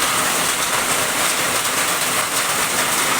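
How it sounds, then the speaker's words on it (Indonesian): Heavy rain pouring at night over a village in Bungah, Gresik, a dense, constant hiss of downpour at steady loudness with no breaks and no voices. "diguyur hujan begitu lebat"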